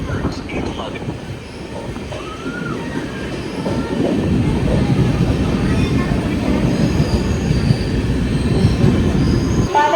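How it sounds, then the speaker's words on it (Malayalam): The Kannur–Thiruvananthapuram Jan Shatabdi express passes very close as a loud, steady rolling rumble with squealing wheels and rhythmic clatter that builds and holds throughout. "നമ്മുടെ ജനശതാബ്ദി അല്ലേ പോകുന്നത്, കണ്ണൂർ തിരുവനന്തപുരം ജനശതാബ്ദി"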